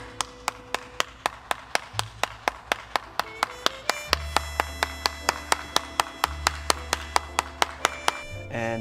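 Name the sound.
applause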